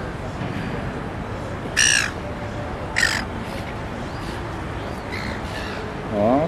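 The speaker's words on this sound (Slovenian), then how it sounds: "No, pa še malo študija tega ptiča." A bird in Sydney, Australia, gives loud, harsh crow-like caws: one burst near two seconds, another near three, and a rising call at the end, all over steady outdoor background noise.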